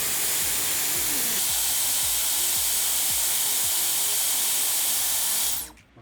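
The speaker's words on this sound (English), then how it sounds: "I'm gonna put it on high heat and high fan speed again" A Dyson Airwrap hair styler runs on high heat and high fan speed while curling, a loud, steady rushing blow of air that holds for over five seconds before shutting off.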